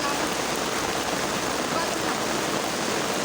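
Heavy rain pours steadily in a dense, even hiss close by during flooding, a constant wash of sound with no breaks.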